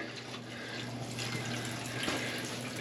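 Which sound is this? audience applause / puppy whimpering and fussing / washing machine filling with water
washing machine filling with water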